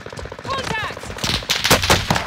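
Bursts of gunfire ring out in Call of Duty Modern Warfare, sharp rapid shots and echoing cracks mixed with game effects while a voice shouts over the combat.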